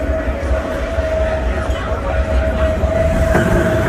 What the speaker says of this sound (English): Here comes the train. The train is coming by.